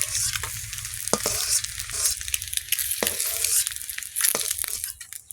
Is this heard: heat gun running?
no